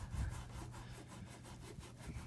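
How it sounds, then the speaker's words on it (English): A scuff pad scrubs surface rust off chrome in straight back-and-forth strokes, a close, steady rasping rub repeating in quick even passes with no pauses. "got a little bit of scuff pad, and you pretty much just want to go in straight lines"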